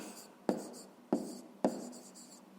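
Pen strokes on paper as an answer is written by hand, with soft scratching and sharp taps at the start of each stroke, close and quiet, with no talk.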